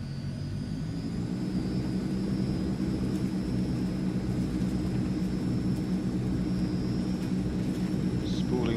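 The twin engines of a Transall C160 cargo plane in Microsoft Flight Simulator spool up toward full power, a steady, loud, dense engine roar with a high whine, holding constant and rising slightly throughout.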